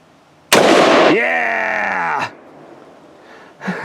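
A Palmetto State Armory AR15 with a binary trigger fires a single sharp, loud shot outdoors, followed by a ringing tail and quieter background.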